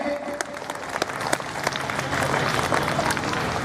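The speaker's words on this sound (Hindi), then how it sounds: "कृपया उनके नाम पर ताली बजा करके उनका स्वागत करेंगे" Audience at a school function claps to welcome a guest, a steady wash of many hands that builds slightly and carries on without a break.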